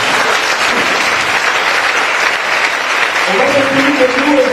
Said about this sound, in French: Est-ce qu'on peut acclamer sa présence?